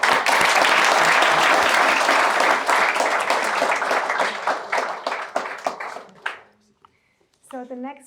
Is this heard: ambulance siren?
no